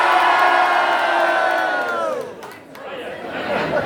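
A loud crowd cheers and whoops at a celebration of a motorcycle racer's 29 Isle of Man TT wins in Ballymoney, the roar sustained, dipping briefly, then swelling again.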